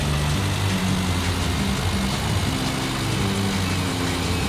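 Car engine in the Ford Racing video game, a steady droning hum with a low rumble that holds constant and loud throughout, no talk.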